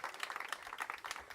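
A small audience claps and cheers in support of raw milk, a short burst of scattered hand claps and brief whoops at moderate distance, faint and uneven.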